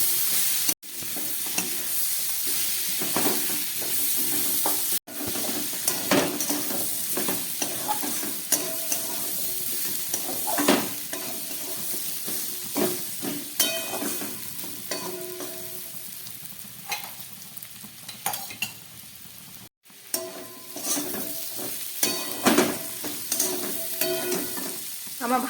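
Vegetables fry with green chili and a pinch of ground cumin in a healthy Bengali home recipe. A steady close sizzle carries on throughout, broken by repeated stirring scrapes and a few brief sharp knocks.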